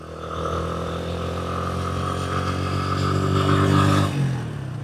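A motorcycle ridden at steady speed on a warm day, its engine droning close and continuous with wind noise, rising slightly before easing off near the end.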